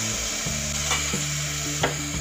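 Spices with chilli powder, Kashmiri chilli powder, garlic paste and asafoetida sautéing for handi kadhi, a steady close sizzle with a few soft stirring knocks, no voices.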